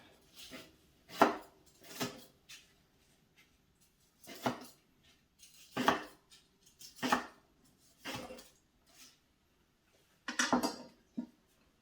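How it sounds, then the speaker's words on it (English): A knife chops through karaage, Japanese fried chicken, on a board in about eight sharp, separate knocks spaced irregularly, close and fairly quiet, with no talking. "we're going to chop up a couple of our karaage"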